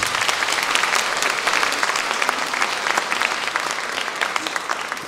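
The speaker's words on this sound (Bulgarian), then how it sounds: "Аплодисменти на народните водители" Loud, sustained applause from a crowd at a 70th-anniversary celebration of a folk choir, honouring its leaders, dense and even throughout, with a few sharper claps standing out.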